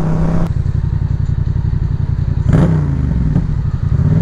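A motorcycle rides along a road, its engine holding a steady, close, pulsing drone throughout, with a brief rise in revs partway through and no talking.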